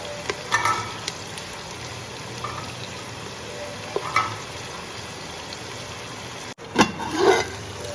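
Capsicum tempering frying in a pan for salted dalia, a soft steady sizzle with a few scraping stirs of a spoon, ending in a louder clatter of stirring.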